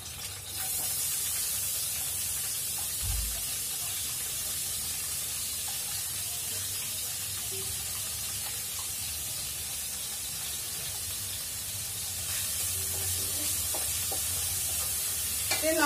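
Ginger, garlic and onion sizzling in hot oil in a home kitchen pan, a steady close hiss that runs unbroken throughout and swells slightly near the end, with faint stirring.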